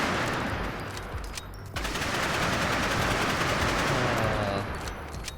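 Missile weapons firing in the video game Nimrods, a loud, dense barrage of rapid bursts and explosions that pauses briefly, then resumes as a sustained roaring salvo and tapers off toward the end.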